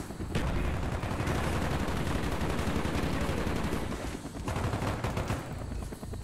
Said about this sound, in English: Yeah, I think tap fire is the way to go.